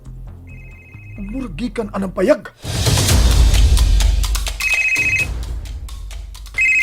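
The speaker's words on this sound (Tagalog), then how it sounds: "Uy, may mibagting na cellphone." A cellphone rings with a repeating electronic ringtone in short tonal bursts that come and go, mixed with people talking and loud background noise.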